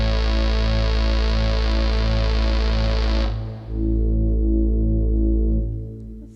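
Roland JX-08 synthesizer sounding a sustained sawtooth tone, buzzy and droning with a slow throbbing pulse. The bright upper content cuts off partway, leaving a darker low hum that then fades out, with no talking.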